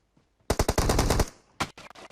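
A loud, close burst of rapid automatic gunfire in PUBG Mobile, about a dozen shots in under a second, followed by a brief pause and a couple more sharp shots.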